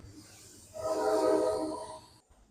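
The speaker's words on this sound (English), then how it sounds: "Do we need to wait for the train to pass?" A train passes nearby and sounds its horn, a sustained tonal blast swelling over rumbling noise for about a second and a half before cutting off abruptly.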